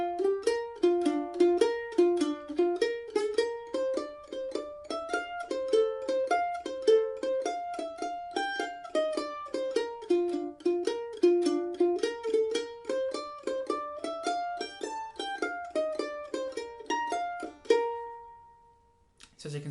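Mandolin alone playing the A part of President Garfield's Hornpipe, a fast, steady stream of bright picked notes in an even hornpipe rhythm, close and clear, ending on a sustained note that rings out and fades.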